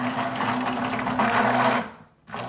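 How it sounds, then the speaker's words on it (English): An immersion blender whirs steadily through a chocolate mixture for a galaxy mirror cake, a loud continuous motor drone that cuts out briefly near the end and then resumes. "Now we're gonna use the immersion mixer"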